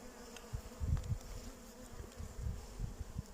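Low, droning buzz of many honeybees close by at a hive, steady with slight swells in loudness, no voices.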